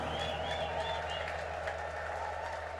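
A church congregation at a festival service in Hawassa claps together in sustained, even applause, a steady wash of many hands that carries at moderate loudness for the whole stretch with little change.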